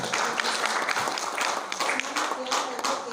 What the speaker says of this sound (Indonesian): tepuk tangan dulu nih Pak Direktur.